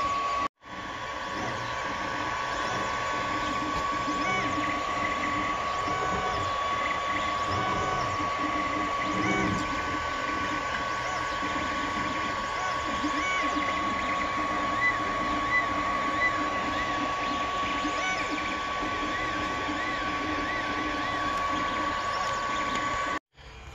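A 3D printer runs a print in a workshop, its steady mechanical whir and stepper-motor whine with faint ratcheting movements continuing evenly throughout, close and moderately loud with no talk.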